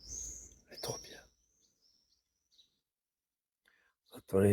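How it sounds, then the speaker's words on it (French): Birds chirp in high, thin calls outdoors, a few brief notes near the start and again toward the end, alongside soft whispering voices and long stretches of near silence. "On entend les oiseaux."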